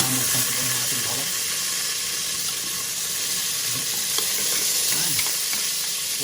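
Onion and garlic frying in a pan for chop suey, a steady broadband sizzle that holds at even loudness throughout, with occasional soft stirring clinks and no talking.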